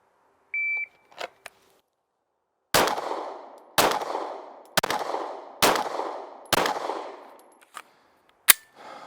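Five sharp gunshots fired at a target 25 yards away during timed pistol drill, evenly spaced about a second apart with ringing decay, preceded by a short electronic timer beep and followed by a faint clang.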